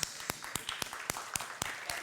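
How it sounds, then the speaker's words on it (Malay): Faint, steady rhythmic hand claps, about four a second, from a small audience applauding the second permanent judge, Along Gambus, at a marhaban singing competition. "berikan tepukan kepada Along Gambus"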